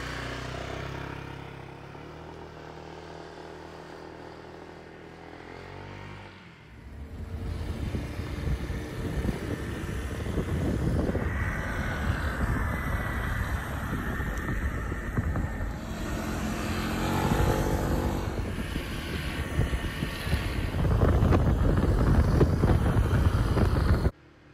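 A 2013 Honda PCX 150 scooter pulls away and cruises, its small engine droning under heavy wind rush, growing louder as speed builds and holding steady through the ride.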